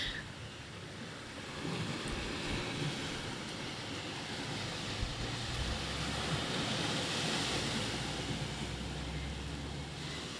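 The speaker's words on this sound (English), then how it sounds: "I'll just leave you with the ocean sounds, the birds surrounding, the wind." Ocean waves wash against the Mexican coast under steady wind, a continuous broadband roar of surf holding level throughout, with no talking.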